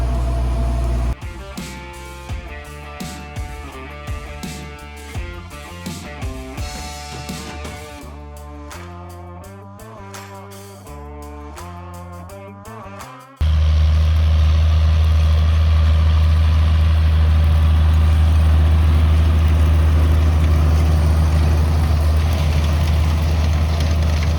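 A heavy tractor engine chugs in a steady pulsing rhythm, then suddenly settles into a loud, constant low drone as it keeps running nearby during no-till sunflower sowing.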